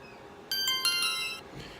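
A Yi Lite action camera beeps as it powers off: a bright electronic tone sounds several times in quick succession, fairly close and clear over a low background hum, then stops.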